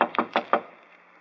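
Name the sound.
knocking on a shop door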